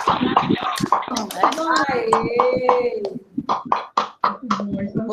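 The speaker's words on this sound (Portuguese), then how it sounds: "fazer, pelo menos, a salva de palmas com o microfone aberto" Applause with microphones left open at the close of an online session on quilombola school education, with scattered hand claps mixed with overlapping cheerful voices and a voice, busy and close throughout.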